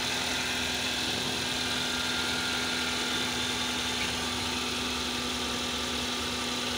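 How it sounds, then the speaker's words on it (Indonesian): Engine of a first-generation Toyota Avanza with a 1300 cc engine idling with the hood open, a steady even hum with a constant thin whine from the fan belt, close and unchanging throughout. "Ini mesinnya, fan bellnya bunyi ya tadi ya."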